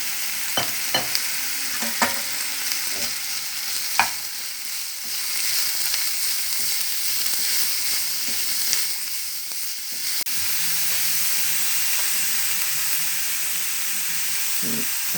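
Grated cabbage is stir-fried with chicken and ginger-garlic paste for fried rice: a continuous close sizzle with repeated scraping and knocking stirring strokes, heavier at the start and settling into a steadier fry.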